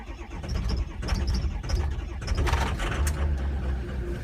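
A diesel engine cranks over with its glow plugs on, then fires and settles into a steady idle. The sound is loud and continuous, with rhythmic mechanical clatter and injector chatter over a deep, rumbling low end.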